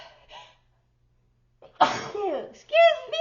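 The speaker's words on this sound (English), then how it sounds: "It was like I could feel that sneeze coming from my toes." A single sharp sneeze bursts out after a quiet pause, close and loud, followed by a voice speaking.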